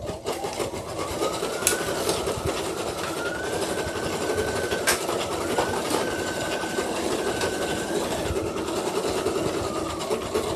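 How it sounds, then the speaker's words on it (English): A sewing machine runs steadily, stitching over an already-sewn outline, with a continuous mechanical whir and faint periodic clicks throughout, close and alone. "we're just going to stitch over that part there."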